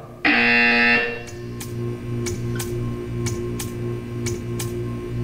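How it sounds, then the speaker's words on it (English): A loud electronic buzzer in the video game Portal 2 sounds once for about a second, followed by a series of sharp, evenly spaced clicks or ticks over a low steady hum. "When you hear the buzzer, stare at the art."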